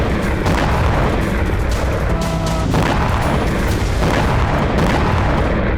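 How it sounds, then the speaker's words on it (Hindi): Repeated explosions from drone attacks in Belgorod come as several loud booms and sharp bursts over a continuous dense roar, with short bright cracks and pops scattered between the larger blasts. "लगातार धमाके हो रहे हैं।"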